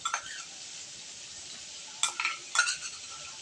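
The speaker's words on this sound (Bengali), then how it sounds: "এবার মশলাটা ভালোভাবে কষিয়ে নেব" Spice paste is stirred and fried in a pan while cooking a jackfruit seed dish, with a soft steady sizzle underneath and a few clinking scrapes of a spoon against the pan.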